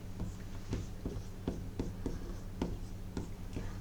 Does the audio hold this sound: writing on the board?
yes